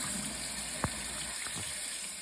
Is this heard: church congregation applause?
no